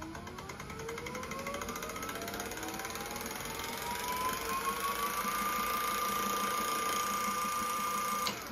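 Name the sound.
electric motors spinning up during VESC Tool motor detection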